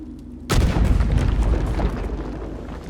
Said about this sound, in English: An explosion from deeper in the shaft suggests there should now be an opening for us to explore deeper into Beryl's Dream mine.